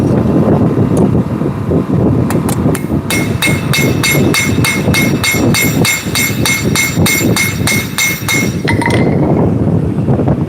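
Steady rapid hammer blows ring on hot metal at a forge as a bevel is shaped, a dense run of sharp metallic clinks with a clear ringing tone, loud and close over a roaring background.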